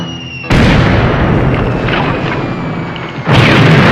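A loud, sustained explosion effect from an original Star Trek episode, a heavy roaring blast that bursts in suddenly, rumbles and decays, then erupts again at full strength near the end.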